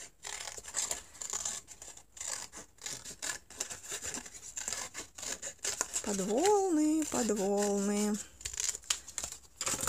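Scissors snip through paper in a series of crisp, uneven cuts close by, trimming it into a wave shape for a pop-up card, and a voice briefly speaks partway through.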